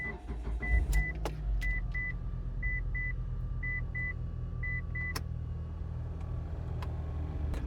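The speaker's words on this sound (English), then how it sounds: "Turn on the car." A Mitsubishi Outlander is started and sits idling with a steady low engine rumble, while a run of short repeated electronic chimes and a few sharp clicks sound close by.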